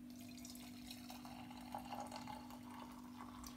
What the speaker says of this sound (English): let's get some hot water and just pour it inside of it